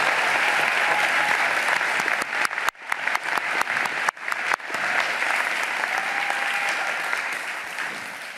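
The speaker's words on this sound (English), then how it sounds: "let's give Ms. Jackson and Dr. Edwards another round of applause" A crowd at a college commencement ceremony gives a sustained round of applause, dense and fairly loud, briefly thinning and dipping twice in the middle before swelling again and slowly tapering toward the end.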